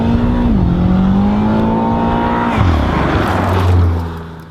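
A BMW M6 with a twin-turbo engine driving, loud and close, holding a steady drone, dropping in pitch at a gear change, then settling lower before fading near the end.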